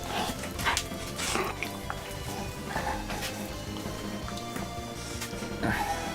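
Indoors, a dog barks and yips in short bursts, fairly close, over a busy background of household noise.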